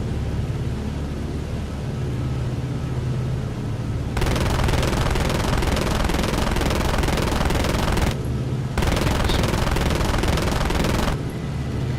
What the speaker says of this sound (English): I'm gonna shoot at something.